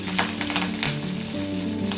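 Vadagam frying in sesame oil in a pan while fish curry tempering is prepared: dense, loud crackling sizzle with stirring, and a tonal hum underneath throughout.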